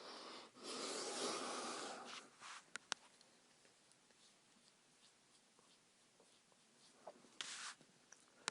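Soft breathing close to the microphone in a quiet room, with a long breathy stretch at the start and another brief breath near the end, otherwise near silence.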